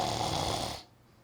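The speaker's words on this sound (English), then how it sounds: "Teasel began to snore loudly." Loud, rasping snoring, near and steady, fills the first moment before stopping abruptly, with no talk over it.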